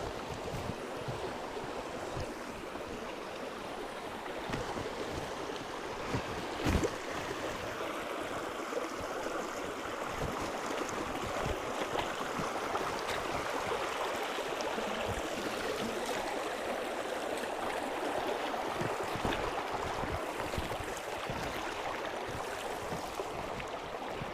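A forest waterfall pours in a steady, broad rush of falling water that stays constant and fairly close, with no voices.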